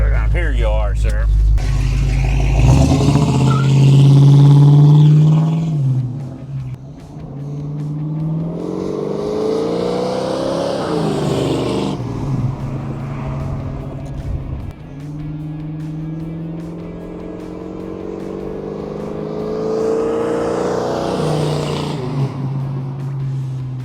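A fuel-injected big-block 1967 Mercury Cougar S-code XR7 makes repeated flybys, each pass a loud, rising roar of acceleration that peaks and fades. Shorter gaps between passes carry quieter idle and road noise. Voices are heard briefly.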